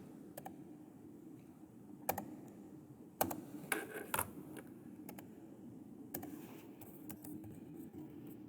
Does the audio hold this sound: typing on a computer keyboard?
yes